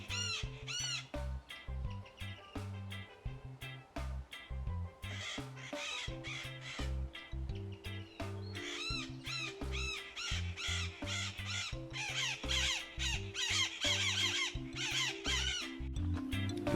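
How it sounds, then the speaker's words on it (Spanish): Blue-crowned parakeets, a parrot species, give harsh, noisy calls in repeated bursts in riverside woodland, over steady background music. "Encontramos unos ruidosos calancates cara azul, una bonita especie de loro"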